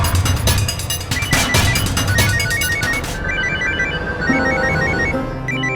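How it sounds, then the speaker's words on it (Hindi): Telephone ringtone in a home scene of a Hindi crime drama, a repeating electronic ring first under loud dramatic background sound, then standing out clearly as the backdrop thins. "अर्चना का फोन है"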